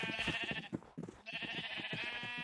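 Sheep bleating in a video game, a steady run of harmonic calls against constant game background sound with a brief dip near the middle, moderately loud and with no talk.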